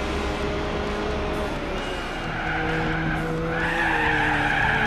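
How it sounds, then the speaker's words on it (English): Tires skid and squeal in a long, steady drift in Gran Turismo 4 during a one-make race, loud and sustained over a droning race car engine, with no talking. "Big drift, alright."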